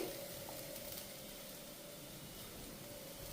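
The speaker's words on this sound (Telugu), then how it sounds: "మీడియం ఫ్లేమ్ పెట్టేసి బాగా వేయించాలి" Food fries in a pan over a medium flame, giving a steady, close sizzle that crackles evenly with no pauses and no talking.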